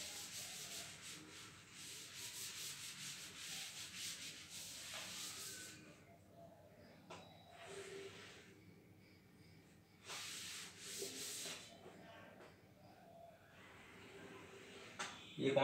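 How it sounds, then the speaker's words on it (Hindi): Writing being rubbed off a classroom board, heard as a soft, steady scrubbing hiss in several long strokes with short pauses between them, close and fairly quiet. "इसे रब कर देता हूं"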